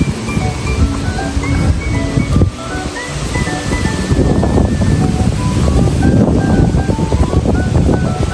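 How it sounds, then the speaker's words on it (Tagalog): Steady, strong wind roars outdoors, buffeting the microphone with low rumbling gusts throughout, joined by faint birdsong. "Malakas yung hangin."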